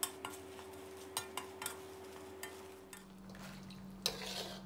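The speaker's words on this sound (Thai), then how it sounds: "มาทอดพริกกันต่อเลยนะครับพริกแห้งจินดา25กรัมทอดพริกของเราให้สุกเลยนะครับ" Dried Jinda chillies fry in a pan with a steady low sizzle, punctuated by occasional scrapes and clinks of a utensil stirring against the metal.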